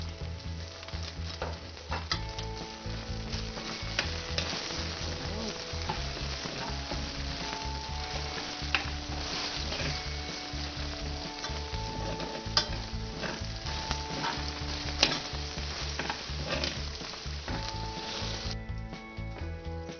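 Annatto seeds frying in hot oil, a steady bright sizzle with stirring sounds, continuous and close for the whole stretch, with quiet background music and no speech.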